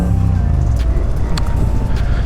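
A Yamaha MT-07 motorcycle fitted with an aftermarket exhaust rumbles loudly and continuously, a deep, throaty engine drone with rough texture throughout.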